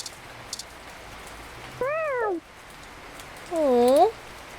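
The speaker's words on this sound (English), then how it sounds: "Oh, expert meow." A cat meows twice in the video game Read Only Memories, with rising-falling calls set against steady rain and a few faint ticks, and no talk over them.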